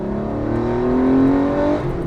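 A Porsche 964 RS engine with an RS flywheel revs freely, a close, loud rising whine that swells toward the middle and then eases off, with no talking over it.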